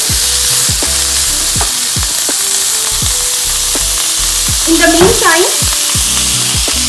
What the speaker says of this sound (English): As per your taste, you can add the veggies. So saute a little.